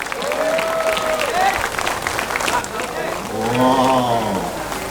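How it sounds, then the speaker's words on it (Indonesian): Applause from an audience at an outdoor speech in light rain, broadband clapping mixed with crowd voices and shouts, sustained at a steady loud level for about five seconds. "Oke, tepuk tangan dulu kita semua."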